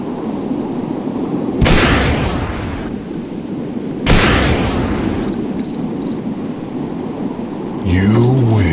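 Two sharp gunshots ring out in the Dinosaurs Hunter video game, roughly two and a half seconds apart, each a loud broadband crack with a decaying tail over a steady game background, followed by a brief tonal game sound.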